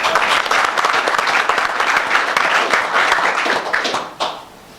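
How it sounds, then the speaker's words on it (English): A steady round of applause from attendees at a town council meeting, many hands clapping evenly before tapering off and stopping near the end. "We can give him a round of applause."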